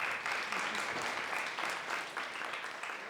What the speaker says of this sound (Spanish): Así que eso merece hasta un aplauso.